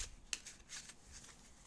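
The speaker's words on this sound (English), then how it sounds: "let's just do a quick overhand shuffle" A quick overhand shuffle of a deck of playing cards during a tabletop board game, a few crisp flicking bursts of cards slapping together at close range, with no talk.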